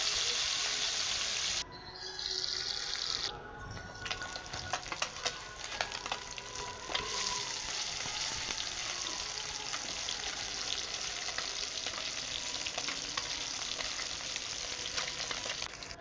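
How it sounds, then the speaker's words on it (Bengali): Small puti fish fry in oil, giving a soft, faint, even sizzle with scattered light crackles and occasional utensil sounds throughout. "পুঁটি মাছগুলো খুব ভালোভাবে আমি ভেজে নিচ্ছি।"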